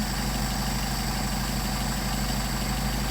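A Mercedes 190SL engine fitted with Solex 44PHH carburetors idles steadily at around 600 RPM, giving a continuous low rumble with an even throbbing pulse, close and loud, with no talking.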